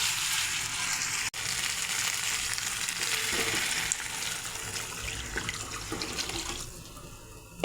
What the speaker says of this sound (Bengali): এখন আমি গরম জল দিয়ে দেব।